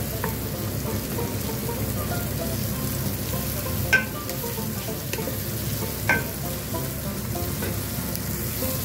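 White and red onions sizzle steadily in a hot pan for spaghetti pancit, with a continuous frying hiss and a couple of faint clicks from a utensil against the pan.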